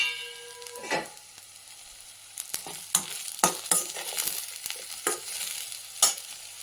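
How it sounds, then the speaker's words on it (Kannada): Raw banana slices fry in a pan, a soft low sizzle punctuated by a series of sharp spatula taps and scrapes against the pan at irregular intervals, close by and with no talking. "ಸ್ವಲ್ಪ ಬೇಯೋ ತನಕ ಈ ಥರ ಫ್ರೈ ಮಾಡ್ಕೊಳ್ಳೋಣ"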